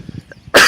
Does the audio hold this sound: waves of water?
no